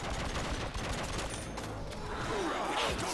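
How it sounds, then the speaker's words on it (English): A gun fires in a zombies video game, heavy and continuous, amid dense, loud in-game commotion that fills the whole stretch. "This is not the sound this gun makes"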